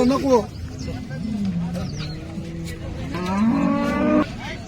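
A pregnant cow close to calving moos several times up close at the Sangola cow market, with long, drawn-out lowing calls, the last one loud and sustained.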